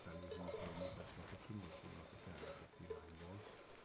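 Sheep bleat repeatedly out on an open pasture while a shepherd moves the flock, the calls rising and falling in a steady rhythm over wind and talk, at moderate distance.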